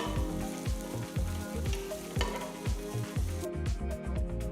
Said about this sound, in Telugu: ఈ పాయింట్లో చీల్చిన మూడు పచ్చిమిరపకాయలు వేసి కొంచెం వేయించాలి